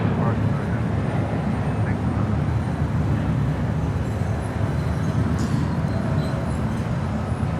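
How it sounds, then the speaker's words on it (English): Volaris Airbus A321 airliner departing, a constant broad jet rumble filling the background while people talk over it. "That was Volaris 915 departing to Guadalajara on an A321."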